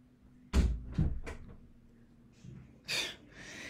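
A household door or cupboard bangs shut with a couple of sharp knocks, followed by softer rustling and a brief breathy burst, in a quiet room.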